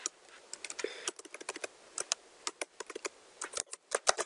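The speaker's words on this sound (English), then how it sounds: "So we're gonna type in keywords." Quick, uneven keystrokes on a computer keyboard, close and distinct, tapping in bursts with short pauses as a search is typed, no talking.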